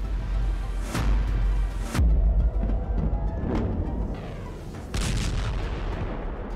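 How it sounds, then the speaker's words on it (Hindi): Iranian missiles exploding over Tel Aviv and Haifa: a continuous rumbling din of distant blasts, with several sharper booms standing out around every second or few seconds, heard alone without speech. "तेल अवीव और हाइफा में गिरती हुई ईरान की मिसाइल देखिए।"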